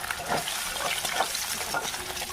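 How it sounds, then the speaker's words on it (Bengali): Boiled eggs fry in hot oil with a steady close sizzle and crackle, punctuated by soft stirring scrapes, no voices. "একই তেলে সেদ্ধ করে রাখা ডিমগুলোকে ভালোভাবে ভেজে লাল লাল করে নামিয়ে নেব"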